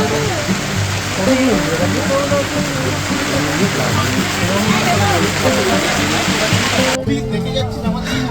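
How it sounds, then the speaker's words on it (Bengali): Steady rain pours down during a monsoon motorbike ride from Kolkata to Jhargram, drumming as a dense wash at a roadside market stall, with voices talking over it throughout. "বৃষ্টি পড়ছে"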